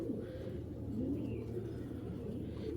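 A female Giribaz tournament pigeon cooing softly, low murmuring coos repeating over a continuous quiet background hum, fairly close.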